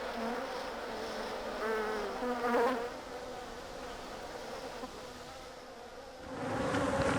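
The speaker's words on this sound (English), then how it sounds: "Worker bees create the honey." Honey bees buzz steadily around an opened hive during a colony check, a dense continuous drone with a few louder passes close by, especially near the start and end.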